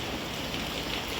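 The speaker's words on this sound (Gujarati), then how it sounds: "તો જો હવાના 7 વાગે અમારા વરસાદ ચાલુ થઈ ગયો" Steady morning rain falls outdoors as a continuous, even hiss of drops on surfaces, moderately loud, close and without any voices.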